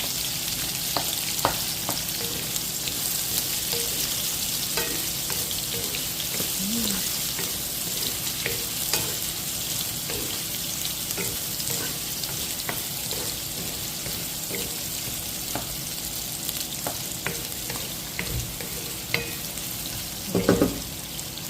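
Garlic stirred and fried in a pan for chicken adobo, a steady broadband sizzle with scattered scraping clicks from a utensil and a louder clatter near the end.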